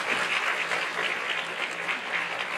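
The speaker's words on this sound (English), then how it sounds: "Clap it up for Faizan!" A school awards-night audience claps steadily for a student nominee, a brief, full burst of crowd applause without pause.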